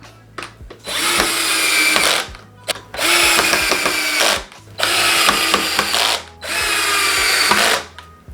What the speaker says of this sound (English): I'm gonna take our drill and go to work.